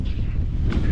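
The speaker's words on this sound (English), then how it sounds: "I think it's windy" Wind buffets the microphone outdoors in a brief, loud, low rumbling gust with no other sound standing out.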